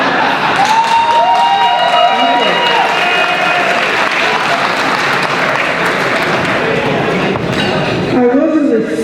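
Loud, dense audience clapping fills the hall at a police officers' appreciation event and continues throughout, with some voices and cheers mixed in.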